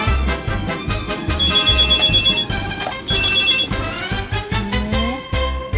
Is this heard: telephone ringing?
yes